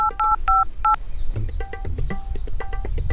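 Telephone keypad tones dialing a number near a petrol pump, a quick series of short, clear electronic beeps in an irregular rhythm over low background rumble, with no talking.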